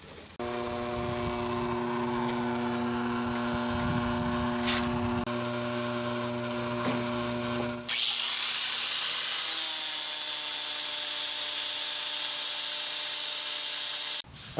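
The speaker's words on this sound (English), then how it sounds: "I wanted to sand the surface of the rolls, and so I rigged up a pulley going to a variable speed DC motor over there" Sandpaper rubbing against a rotating roll from a Yates American B244, turned by a pulley from a variable speed DC motor, giving a steady whining hum with continuous abrasive hiss that shifts to a brighter, harsher scrape partway through.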